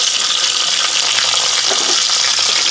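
Mustard seeds, cumin, curry leaves, green chilies and chopped onion frying in hot oil for a spicy mutton curry, a steady close broadband sizzle with faint stirring, no talking.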